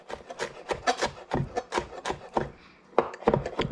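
Knife chopping garlic and herbs on a wooden cutting board: quick, close scraping and tapping strokes in an uneven rhythm, with a short pause partway through before the chopping resumes.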